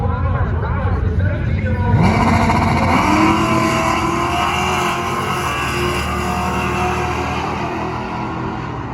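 A drag racing car launches and accelerates hard down the strip at Cordova during Sick Week, its loud engine roaring and climbing through rising gear pulls, close and dominant throughout.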